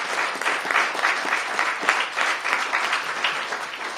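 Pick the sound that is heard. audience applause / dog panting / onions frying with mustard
audience applause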